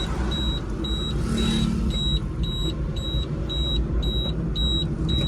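A car runs on petrol while driving through traffic toward a CNG pump, giving a steady, loud engine and road rumble with a faint high beep repeating at an even pace.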